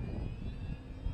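A QQ Yak 55 RC model plane flies inverted, its small engine giving a steady distant drone with a faint high whine, fairly quiet and unbroken.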